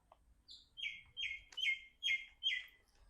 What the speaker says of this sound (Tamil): மைனா ஏன் சத்தம் போடுற?